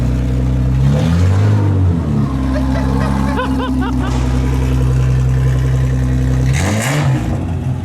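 A custom bazooka car's engine revs hard in bursts, loud and close, with a deep droning idle between sharp rising pulls and a final surge, and no clear speech over it.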